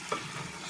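A brief scrape of a utensil stirring broth in a frying pan, with a soft sizzle continuing underneath.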